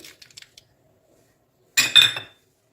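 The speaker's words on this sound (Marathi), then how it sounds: "आता या केसमध्ये मी टाकून घेते आपण फ्राय करून घेतलेले काजू बदाम फ्राय करून घेतलेले किशमिश आणि शेंगदाणे" Fried cashews, almonds, raisins and peanuts tumble into a vessel for crisp potato chivda: a few light clinks, then a short, close rattling pour lasting about half a second.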